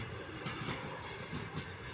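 A train rolls by on rails nearby with a steady rumble and a faint rhythmic clickety-clack of wheels, a continuous moderate roar with no talking.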